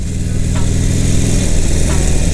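Motorcycle engine running loud and close while the rider shifts gears, the steady drone briefly dipping at the gear changes before picking back up.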